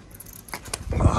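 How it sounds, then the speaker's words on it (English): A wild bird in Queensland's Glass House Mountains pecks its beak against a phone camera lens, giving a few light, close taps followed by a louder burst of scuffing contact near the end. "the beak of this bird is touching the phone lens"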